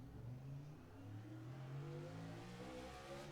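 A NASCAR stock car in iRacing rolls out of the pit box for superspeedway qualifying, its engine droning steadily and climbing gradually in pitch, heard faintly and alone.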